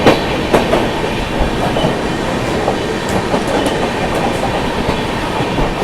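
Sampoorna Kranti express train running at speed, a loud, steady rumble of wheels and carriages with occasional clacks and faint squeals, no voices.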